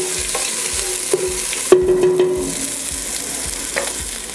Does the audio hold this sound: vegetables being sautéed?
yes